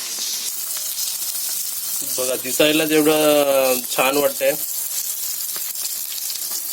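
Dhomi fish fries Konkani style on a hot tawa with a steady hiss and crackle. Someone speaks briefly over the sizzling.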